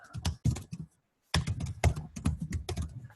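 Hard, fast keystrokes on a computer keyboard clatter in close bursts, a dense run of sharp clicks and thunks broken by a brief silent pause before the typing resumes.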